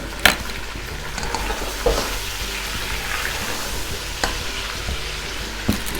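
Garlic and ginger paste frying and being stirred in a pan for chicken nihari, a steady close sizzle with occasional scraping knocks of the spoon and no talking.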